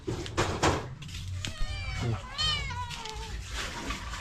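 A cat meows with rising and falling calls near a Thai rural home kitchen where fish is grilled and green papaya salad pounded, heard under people talking.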